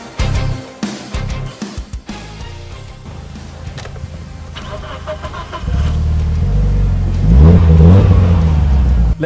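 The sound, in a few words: Mitsubishi Lancer Evolution car engine revving before drag race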